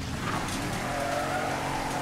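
Car in the Mafia III video game pulling away with squealing tires, a steady loud engine roar with skidding tire noise throughout, no talk.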